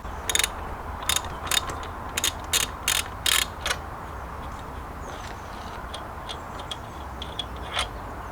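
A ratchet clicking in short repeated bursts while undoing Allen bolts on the Alpha turbo intake of a rotary Mazda RX7, close up, followed by lighter scattered ticks and clinks, with no talking.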